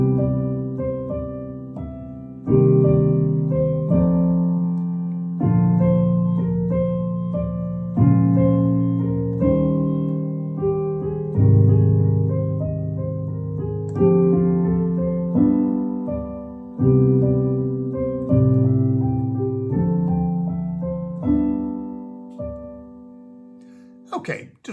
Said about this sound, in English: play the chords with the left hand in root position and play the melody in single notes in the right hand.